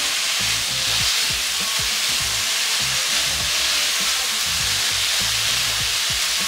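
Mauritian fried rice with mushrooms sizzles loudly in a pot while two spoons push and scrape it in a quick, repeated rhythm, a dense hiss of frying under steady clinking strokes.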